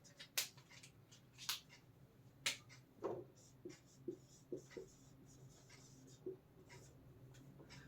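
Chalk or marker scratches on a classroom board in short, irregular bursts of squeaky strokes and taps, fairly faint, with no talking.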